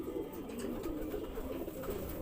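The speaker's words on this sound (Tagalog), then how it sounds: "So ito nga yung unang ibon mga kalapatids. So isa siyang Taiwan bird." Taiwan-bred racing pigeon in a loft giving a low, continuous cooing murmur, close and steady throughout the short stretch.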